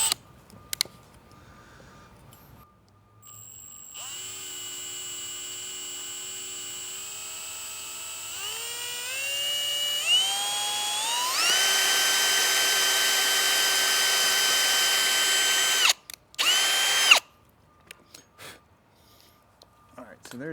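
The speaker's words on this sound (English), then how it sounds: "I'm going to have to hold the flange here and just use the drill and the drill bit." A power drill with a bit boring through a metal flange on a Subaru WRX STI brake duct block-off plate, a loud steady whine that climbs in pitch in stages and then drops out abruptly near the end.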